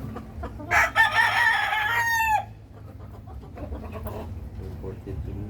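A rooster crows loudly and close by among hens imported from Texas at a rural fiesta in Cabatuan, Iloilo. A long, harmonic crow lasts about two seconds, followed by low clucking and farmyard murmurs.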